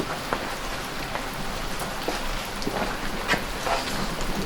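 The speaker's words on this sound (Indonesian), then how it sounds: "hujannya tidak terlalu deras ternyata" Light rain falls at night near an outdoor swimming pool, a steady even patter with scattered nearby drips and no voices.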